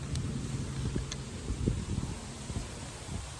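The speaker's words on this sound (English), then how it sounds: "It's starting to get windy." Steady wind buffeting a microphone, a constant low rumble with gusty thumps, with no voices present.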